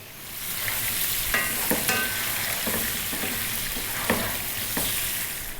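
Potatoes for roasting are tossed in a pan with a bit of oil and fry with a steady, close sizzle, broken by a few sharp scrapes and clatters as they are thrown around.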